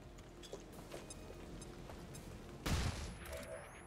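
A flashbang goes off in a video game as one sharp, loud burst of noise, set against a steady low background rumble that continues before and after.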